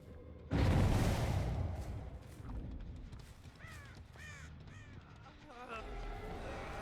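Crows caw repeatedly in the video game Dead by Daylight, conjured by The Artist killer: a loud whooshing burst first, then several short harsh caws spaced across the clip.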